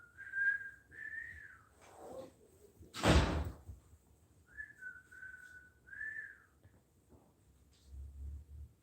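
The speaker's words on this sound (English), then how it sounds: "Nice whistle." Someone whistles indoors in a few short melodic phrases, with a loud door slam or thump between them; clear and fairly close.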